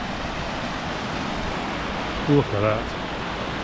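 A stream in the Peak District gives a steady, full rush of running water, close and continuous throughout, with someone briefly speaking over it near the end.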